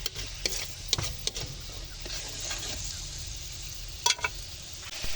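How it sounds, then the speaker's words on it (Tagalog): Salted food is stirred in a cooking pan, with intermittent spoon scrapes and knocks over a steady background sizzle, heard up close and without talk. "hahaluin na natin yan"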